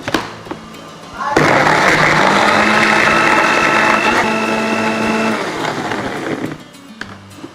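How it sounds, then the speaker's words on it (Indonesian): A kitchen blender grinds a spice paste of turmeric, ginger and candlenut with a little water, starting abruptly into a loud, steady whirring drone that holds for about five seconds before cutting off, with faint speech and clatter around it. "kita mau kasih air dikit aja supaya blendernya jalan ya"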